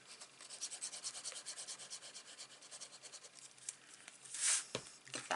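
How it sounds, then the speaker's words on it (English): Patterned paper is rubbed down by hand onto glue for a 3D paper snowflake, a close, soft, rhythmic scraping of repeated strokes ending in a brief louder swipe. "Give that a little rub."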